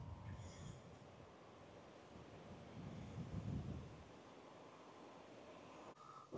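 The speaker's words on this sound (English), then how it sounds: "It's getting more windy." Wind gusts across an open field while fertilizer is being spread, a steady broadband rushing that swells louder midway and stays continuous, with no talking.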